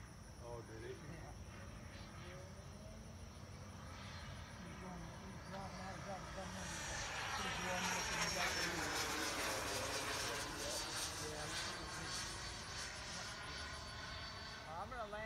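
An HSDJETS Super Viper 105mm electric ducted fan model jet flies on 12s power, its whine rising and falling in pitch as it passes, swelling louder midway. Voices murmur faintly in the background.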